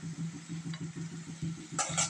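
Onion, garlic and green chilli stir-frying in oil in a pan, a steady low sizzle with rhythmic scraping of the spoon, then a brighter hiss swelling near the end; no voices.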